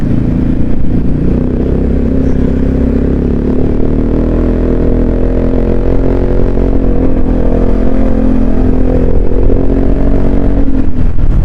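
A motorcycle rides along a road on a tour toward Puncak, its engine droning loud and close throughout with steady rumble and wind noise, no talk over it.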